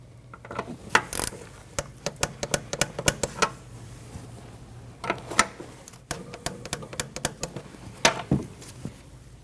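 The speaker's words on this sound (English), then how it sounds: "Now you can tighten those down to 18 foot-pounds." A ratchet wrench tightens the rear shock mount bolts on a 2013-2019 Ford Escape, making rapid bursts of close mechanical clicking in short runs separated by brief pauses.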